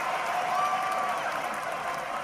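A ballpark crowd at a 1985 Chicago at Houston baseball game applauds and cheers as the game ends, a steady wash of distant clapping and shouts with no break.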